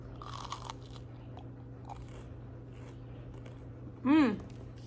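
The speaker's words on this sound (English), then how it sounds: "Do you want to hear the crunch of these chicken nuggets?" Someone eating chicken nuggets alone in a quiet cabin gives one short, loud, close crunch near the end. Before it there is only faint low room hum and a few soft rustles.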